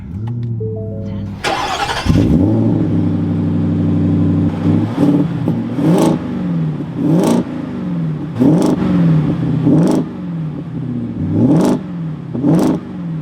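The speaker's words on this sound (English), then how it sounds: "let's fire this back up and get those exhaust revs for the Raptor R" A 2024 Ford F-150 Raptor R engine cranks and fires, then idles with a deep burble between a series of sharp, loud exhaust revs, about seven blips.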